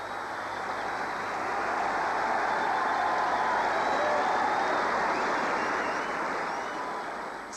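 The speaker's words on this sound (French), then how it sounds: "sous les acclamations" Crowd at Roland Garros 1992 cheering and applauding McEnroe as he leaves the tennis court, a dense, steady roar of clapping and voices that swells slightly in the middle and holds throughout.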